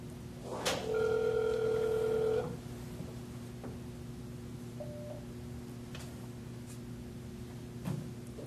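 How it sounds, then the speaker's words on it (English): A phone line rings out during an outgoing call, one clear electronic ring tone near the start followed by a long quiet wait with a steady background hum and a few faint clicks. "let's see if we can get him on the phone right now"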